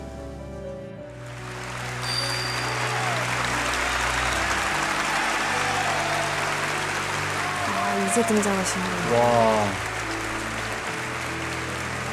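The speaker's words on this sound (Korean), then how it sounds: "이 기립박수가 무려 12분 진행이 됩니다." A dense, sustained roar of standing-ovation applause from a large crowd for Charlie Chaplin, steady and loud, with a voice speaking briefly at the start and some whoops.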